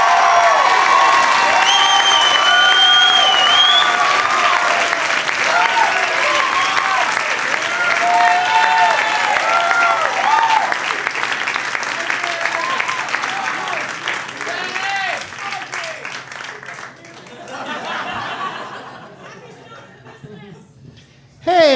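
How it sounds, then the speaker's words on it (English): A comedy club audience applauds and cheers loudly for a comedian, a dense roar of clapping and whoops that gradually thins and fades near the end as voices take over. "Big round of applause"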